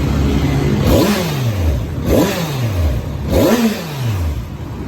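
A Kawasaki Ninja 1000 motorcycle engine is revved three times in even succession, each blip rising sharply and then winding back down to idle, loud and close.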